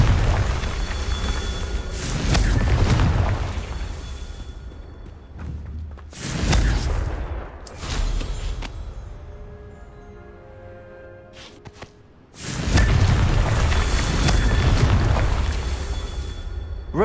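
Several booming blasts from the Confringo spell in the Hogwarts Legacy video game. Heavy explosions hit at about 2, 6, 8 and 12 seconds, with rumbling decay and quieter stretches between them.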